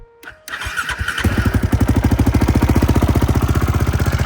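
A quad's engine cranks with a few quick starter turns, then catches and settles into a loud, fast, even idle putter close by.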